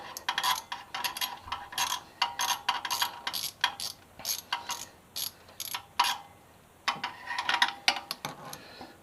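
Screws being backed out on an MV Agusta F3 motorcycle during an oil change, a close run of sharp ratcheting clicks in quick bursts with short pauses, loud and alone.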